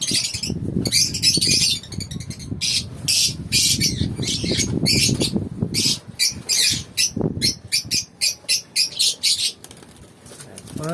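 Lovebirds squawking loudly up close, sharp chattering calls with bursts of wing flapping, growing choppier and more rhythmic toward the end.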